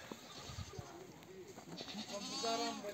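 A goat bleats outdoors during a family picnic in nature, a wavering cry rising near the end over a background of murmured talk and ambient noise.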